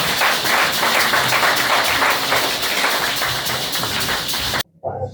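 A church congregation applauds in a steady, loud wash of clapping that stops abruptly near the end, followed by a brief voice.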